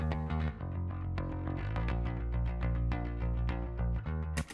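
A clean, unprocessed bass track plays on its own inside a mix, sounding steady and full for several seconds with busy repeating notes and a brief dropout near the end.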